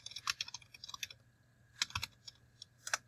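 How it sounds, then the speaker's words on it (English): Quick, light keystrokes on a computer keyboard, close and fairly quiet, coming in two short bursts of typing separated by a pause, with no voices. "So I'm going to just type one of my research questions in here."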